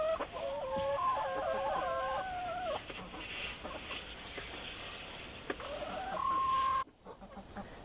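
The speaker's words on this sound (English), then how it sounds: "Get out of the way, chickens." Chickens clucking and crowing close by, with a few drawn-out calls over a busy outdoor background, ending abruptly.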